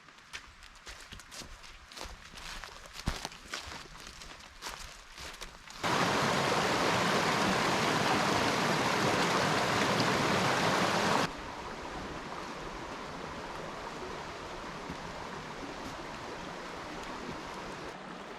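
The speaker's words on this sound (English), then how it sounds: "We're in the middle of Big Island Creek." Steady broadband rush of Big Island Creek flowing through the Uwharrie National Forest in North Carolina. It starts under crunching footsteps and splashing, swells loud and close for several seconds, then settles into a softer continuous flow.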